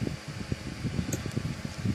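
An electric fan blows steadily nearby in a room where a miniature omelette-rice craft is being made with resin, a constant airy whoosh with soft rustling flutters.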